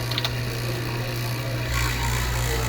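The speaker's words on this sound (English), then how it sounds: "So we turn on the vacuum pump. When I open these knobs, it's going to expose this pump to the line. The sound is going to change." Vacuum pump running on a small refrigeration unit's line, a steady motor hum with a low tonal drone whose pitch and texture shift partway through as the valves open to the line.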